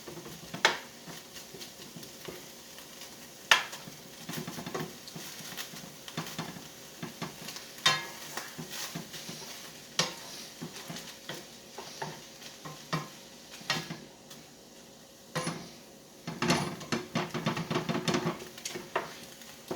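Beef chunks are broken up with a utensil in a frying pan, with steady sizzling under repeated scraping and stirring knocks against the pan, some sharper than others, at moderate volume.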